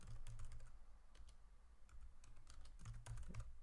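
Computer keyboard typing while entering a Java lambda expression, a steady run of light key clicks with scattered louder taps and a few quick bursts near the end, close and alone with no voices.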